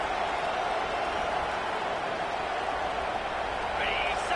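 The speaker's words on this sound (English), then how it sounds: "This crowd bringing the energy and noise early." Football stadium crowd noise early in an opening drive, a steady dense roar with broadband hubbub throughout and a brief whistle-like tone near the end, loud and continuous.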